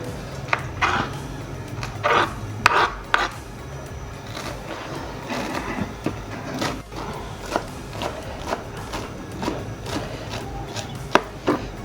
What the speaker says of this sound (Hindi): मैं ना बरीक बरीक धनिया काट लेती हूँ